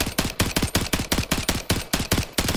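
STG 44 assault rifle firing in the Warzone 3 video game, a loud close-up burst of about a dozen evenly spaced rapid shots in steady automatic rhythm.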